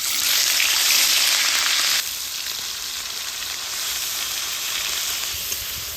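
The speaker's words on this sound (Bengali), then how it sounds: "এবার ওই তেলের মধ্যে দিয়ে দিব হচ্ছে পেঁয়াজ বাটা" Onion paste hitting hot oil, a loud bright sizzling hiss that surges at first then settles into a steadier, slightly softer crackle.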